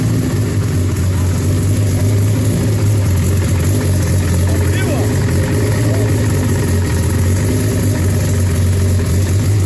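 A turbocharged Chevrolet Caravan engine idles loud and close with a steady low rumble that runs the whole way, and people talk faintly over it.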